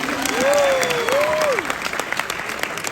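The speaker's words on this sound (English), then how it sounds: "We can give them another hand clap." An audience at a Washington DC summit gives a short burst of hand-clapping, brief and moderate in volume, while a voice or tonal sound glides over it and the clapping quickly thins into scattered claps.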